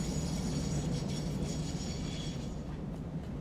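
A train in the factory-building game Satisfactory rumbles past in a steady, broad wash of rolling noise with faint clinks, fairly close and loud, with no talking.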